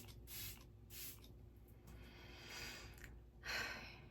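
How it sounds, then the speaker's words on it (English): Several short hissing spritzes from an Annabelle makeup setting spray bottle, spaced irregularly, quiet and close, with the last burst the loudest. "one thing I love about this Annabelle setting spray is that it adds a glow"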